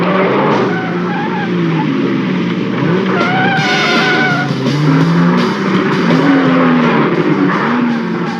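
A car skids with loud, wavering tire squeals over a steady roar of engine and road noise, the screech rising and bending through the middle of the clip.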